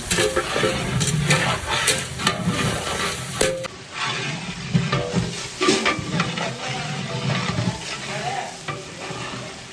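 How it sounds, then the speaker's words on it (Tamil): Ginger and garlic sautéing in a large catering pot for a 15 kg veg biryani, with a steady loud sizzle and continuous scraping and stirring of a ladle against the metal. "இஞ்சி பூண்டு நல்லா வதங்கிடுச்சு"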